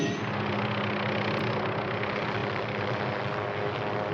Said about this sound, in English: The chopper allows you to look down on the landforms